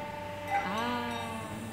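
A cow in a stable in Berg, Switzerland, gives a single drawn-out, rising moo at moderate distance over a steady low background hum, with no voices.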